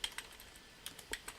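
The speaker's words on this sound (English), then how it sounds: "I'm just gonna start by typing in home space" Light, fairly quiet keystrokes on a computer keyboard form an irregular run of soft clicks with small pauses, heard alone.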